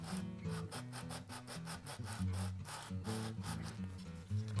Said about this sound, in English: Sometimes I'll interrupt my sanding with a little scraping